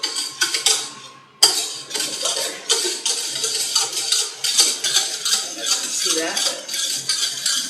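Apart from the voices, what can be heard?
stirring sugar in a bowl for homemade caramel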